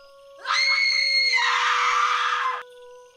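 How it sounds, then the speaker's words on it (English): High-pitched scream sound effect for a horror story: one loud, sustained shriek rising sharply and holding for about two seconds before breaking off, set against a faint steady tone. "And then came the second scream. This one was different. It was loud, high-pitched,"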